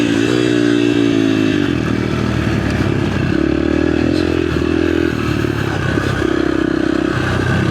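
A small mini bike engine runs loud and steady on a big outdoor riding track, droning and rising in pitch with clattering mechanical noise throughout, without talking.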